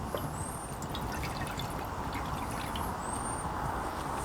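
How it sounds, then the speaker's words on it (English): Water pours into a pan on medium-high heat to start a stock for Korean tteokbokki, a steady, close trickle and splash running throughout with a few bright high drips. "I'm going to add in my water."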